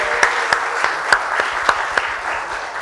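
An audience at an inspirational talk show claps continuously, a close, loud roll of applause with a few sharper individual claps standing out in a steady rhythm.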